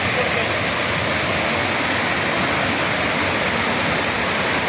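Monsoon-fed Kumari waterfall in Thanchi, Bandarban, a dense continuous roar of cascading water, loud and near, steady throughout with nothing else standing out.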